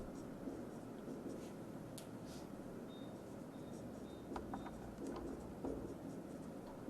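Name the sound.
writing by hand while solving a matrix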